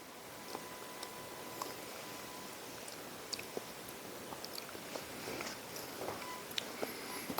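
Canned Finnish salmon in tomato sauce being chewed up close, with soft, irregular moist mouth sounds and small clicks over a faint background hiss.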